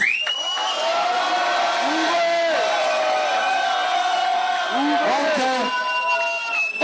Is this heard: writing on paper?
no